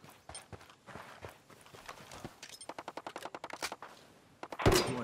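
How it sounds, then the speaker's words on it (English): Bursts of rapid automatic gunfire in a Ghost Recon battle, with quick crackling shots in uneven volleys that build toward a louder blast at the end, fairly distant and faint overall. "Hostiles are shooting."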